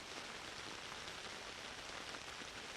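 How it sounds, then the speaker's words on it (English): Gentle rain falls steadily, with soft raindrops pattering on surfaces. The wash is faint, even and unbroken, with no voices. "the sounds of raindrops begin to fade out of earshot"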